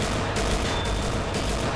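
A tank's automatic cannon fires in World of Tanks: loud, dense, rapid bursts of gunfire merge into a continuous roar with a few sharper surges.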